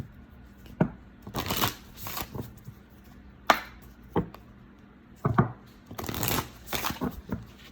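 A deck of Work Your Light oracle cards is shuffled by hand in several brisk bursts, each a short papery riffle of rapid flicks, separated by single soft taps and brief pauses, close and fairly quiet.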